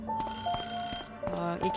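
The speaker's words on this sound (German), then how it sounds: "ekliges Weckergeräusch" An alarm clock in a video game rings with a repeated electronic chiming tone in short bursts, loud and close, with no speech over it.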